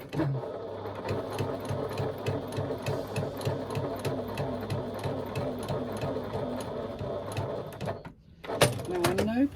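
A sewing machine stitches down the side of a pocket with an eighth-inch seam allowance, a quick steady run of mechanical needle strokes that stops briefly near the end before a short burst resumes.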